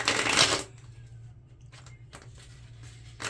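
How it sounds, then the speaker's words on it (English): A deck of tarot cards shuffled by hand: a loud burst of riffling at the start, then quieter scattered card flicks and taps over a low background hum. "They're telling me to shuffle and break the deck"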